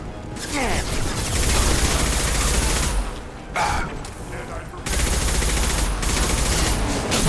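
Dense gunfire rattles through a firefight in Mass Effect, loud sustained bursts of automatic shots with a brief lull partway, then the shooting resumes at full intensity.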